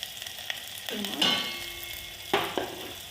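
Onion, green chili and panch phoron sizzle softly in oil in a pressure cooker, a steady faint frying hiss broken by a few scraping stirs and clinks.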